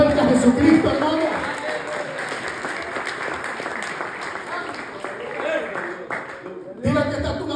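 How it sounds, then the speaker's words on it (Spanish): Church congregation applauding during a Spanish-language sermon, a dense wash of clapping with voices mixed in that runs steadily, dips briefly near the end, then swells again. "Dele palmas fuertes a Jesucristo, hermano."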